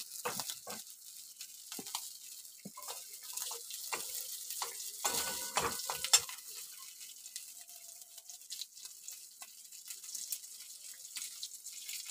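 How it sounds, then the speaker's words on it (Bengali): Cumin seeds crackle in hot mustard oil as a tempering for a chicken stew, a faint sizzle and scattered pops under clattering utensil knocks, busiest in the first half and thinning toward the end. "জিরে ফোড়ন দেওয়া হলো।"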